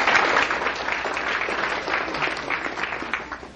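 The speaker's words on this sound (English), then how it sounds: "Please join me in a round of applause for David Epstein." An audience applauds David Epstein, a gem negotiation speaker arriving from Brazil: steady, dense clapping that starts strong and tapers slightly over a few seconds, with no talk over it.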